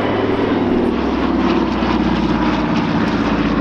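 A Douglas C-47 Dakota propeller transport plane flies close overhead at the Dunsfold Wings & Wheels airshow, its piston engines giving a loud, continuous droning roar with a throbbing propeller beat throughout.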